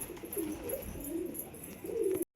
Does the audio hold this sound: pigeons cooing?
yes